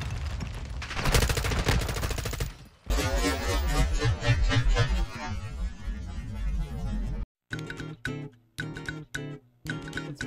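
Gunfire in the Modern Warfare 2 beta, a dense sustained burst of rapid shots for several seconds, then a short pause and a few choppy, separate bursts toward the end, loud and close.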